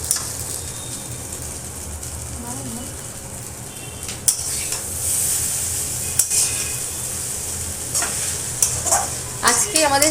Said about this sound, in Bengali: এর মধ্যে চাউমিনটা দিয়ে দেবো। চাউমিনটা দিয়ে এর মধ্যে সামান্য নুন, চিনি, চাউমিন মশলা আর গোলমরিচ গুঁড়োটা দিয়ে দেবো